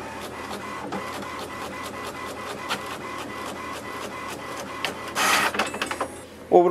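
An HP Envy 6032 inkjet printer runs a print job, a quick regular series of mechanical clicks and ticks from the print head, then a brief louder whir and clatter as the paper feeds, heard close.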